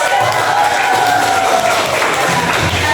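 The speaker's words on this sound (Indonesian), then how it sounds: "ini tepuk tangan" Crowd of schoolchildren clapping and cheering in a classroom, dense and continuous, with voices mixed into the noise.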